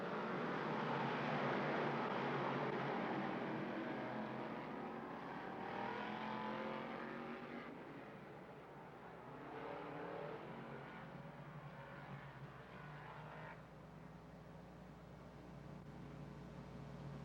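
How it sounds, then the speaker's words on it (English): Big block modified race cars roar around the dirt oval at Lernerville Speedway, a dense sustained engine drone that swells and fades as the pack sweeps by, loud and continuous for the whole stretch, with no voices. "Dave Burdick, Tim Duran bring the field to life in the starter's box in turn 4"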